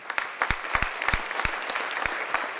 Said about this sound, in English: give a huge round of applause to all the folks that presented today